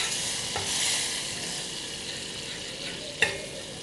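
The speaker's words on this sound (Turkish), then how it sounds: "Tereyağımızı iyice kavuralım." Butter and oil sizzle steadily in a pan for a baby's vegetable soup, with a continuous close frying crackle and a couple of faint clinks from stirring.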